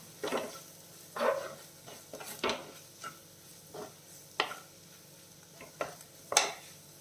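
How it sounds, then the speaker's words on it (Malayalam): Spice powders for a crab roast sautéed in a pan, heard as a series of soft, spaced scraping strokes of a spatula over a faint sizzle, close and quiet. "എല്ലാം കൂടെ ചേർത്തിട്ട് അതിൻ്റെ പച്ചമണം മാറുന്ന വരെ ഒന്ന് വഴറ്റി കൊടുക്കാം."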